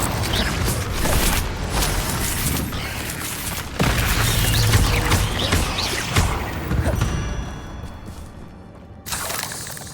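Spell combat in Hogwarts Legacy as Levioso is cast, a dense run of magical whooshes, crackling bursts and booms that drop off abruptly near the end before a final surge, with faint voices mixed in.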